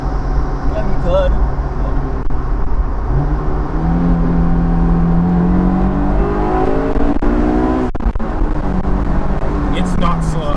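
A Honda S2000 AP2 with VTEC engine accelerates from inside the cabin, its steady drone rising in pitch as revs climb, then a brief shift dip before pulling again, loud and continuous.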